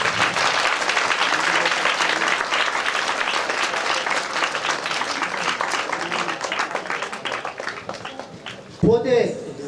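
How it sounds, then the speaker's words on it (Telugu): Sustained audience applause fills the room at the opening of new classrooms at a Zilla Parishad high school, loud and continuous for about nine seconds before a brief voice breaks in near the end. "గట్టిగా చప్పట్లు ఆగకూడదు."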